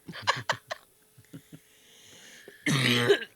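A few short dry coughs at the start, a quiet pause, then a louder harsh cough fit near the end.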